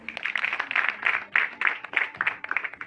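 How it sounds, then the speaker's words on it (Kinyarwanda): An audience at a school celebration gives a short burst of applause, rhythmic clapping that rises and falls in waves, close and moderately loud. "Ubwo nawe tukumukomera amashyi."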